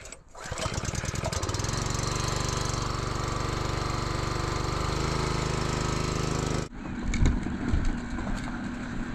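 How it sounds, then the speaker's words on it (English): A Honda engine cranks and catches, then runs steady and loud for several seconds before cutting off abruptly, leaving outdoor background noise and a few bird calls. "Let's see if this engine will start. Now, it's a Honda, so I have confidence."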